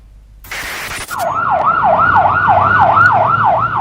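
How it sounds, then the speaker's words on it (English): A Salvadorian ambulance siren in San Salvador at dawn wails loudly and close in a fast, regular up-and-down cycle, following a brief engine noise and a sharp clunk. "A Salvadorian ambulance speeds through the dawn sunlight to yet another emergency."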